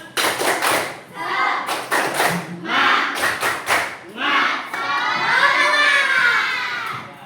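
A school classroom of children performs a rhythmic spirit clap in bursts of sharp, patterned claps, mixed with shouted chanting and ending in a loud cheer, all close and energetic.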